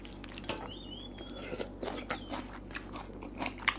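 Spicy Thai pork face salad bitten and chewed up close, with soft crunches and wet squishy mouth sounds in an uneven rhythm, and a faint high whistle-like tone briefly in the background.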